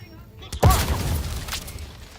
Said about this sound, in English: Shooting all the rounds from shotgun twice.